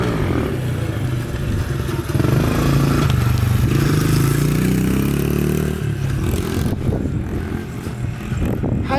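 A motorcycle engine roars loud and close under steady throttle, its pitch rising and falling through revs with rattling mechanical clatter, and no talk over it.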